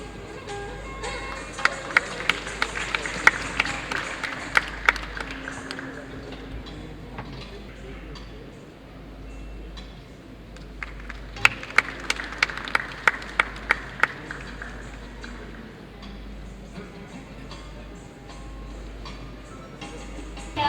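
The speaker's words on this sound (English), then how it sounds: "The final round of applause for all the panelists." Scattered applause from an audience at a summit's valedictory function in a convention hall, recognizing the panelists; sparse sharp claps come in two bursts over a steady low background hum, with talk mixed in.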